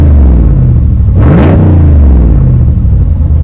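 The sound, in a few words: Ram 1500 Rebel HEMI V8 engine revving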